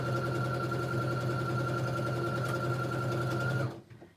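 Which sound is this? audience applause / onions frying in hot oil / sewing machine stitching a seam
sewing machine stitching a seam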